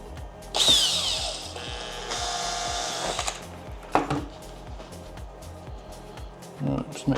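A power drill bores through plastic on a DJI Avata 2 drone bag, whining in a loud burst of high-pitched drilling for a few seconds, then stopping and starting again in shorter bursts amid handling clatter.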